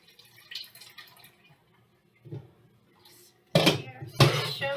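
Vegetable broth drips and trickles from a strainer bag lifted out of a pot, starting with faint scattered drips and building to two louder, close splashing pours near the end, with a voice speaking briefly at first.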